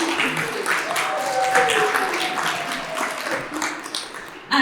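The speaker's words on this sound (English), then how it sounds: "Yes, round of applause to you all." Audience applauding at a California wolves discussion event, a broad steady wash of clapping lasting several seconds, fairly loud and close, fading slightly toward the end.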